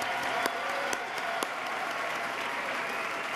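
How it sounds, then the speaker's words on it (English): Audience applause after a speaker is introduced at a New York State of the State address, a steady dense wash of clapping from a large crowd with a few sharper claps standing out. "You win the applause meter."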